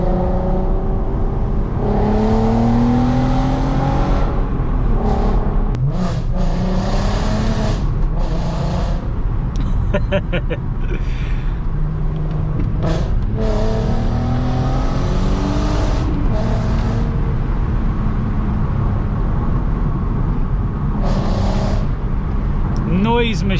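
VW Golf R32 engine droning loudly while driving at low speed, a steady interior rumble with rising and falling revs under someone talking throughout.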